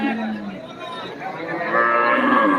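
Beef cattle at the Deohata livestock market moo in long, wavering calls, near and fairly loud, over a low murmur of people in the background.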